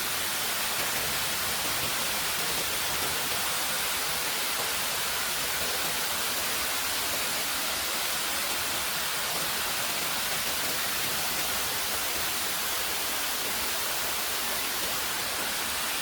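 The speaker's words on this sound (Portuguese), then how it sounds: "Agora eu vou mostrar para vocês a cachoeira." The Braúnas waterfall near Belo Horizonte, Minas Gerais, pours in a steady, dense hiss of falling water, heard continuously and alone at moderate distance with no voices.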